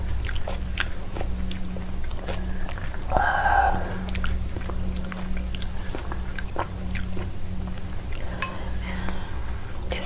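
Salmon sashimi being chewed up close: soft wet squishy mouth sounds with light clinks of cutlery and dishes over a steady background hum, with brief voice sounds.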